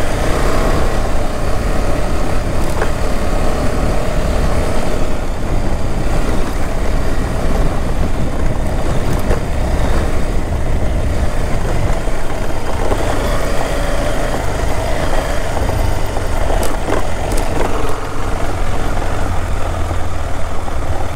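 A motorcycle rides off-road in a continuous loud rumble of engine and wind, steady throughout with occasional bumps and rattles.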